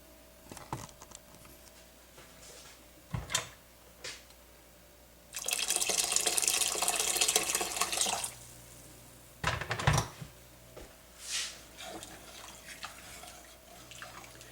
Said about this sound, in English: what you can do is just add a little more water